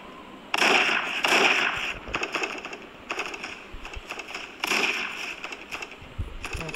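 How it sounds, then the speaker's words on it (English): Shotgun blasts in the Warface: Global Operations video game. Several loud, sharp booms come in a spaced rhythm, with quieter gunfire and background game noise between them. "let's switch to the shotgun"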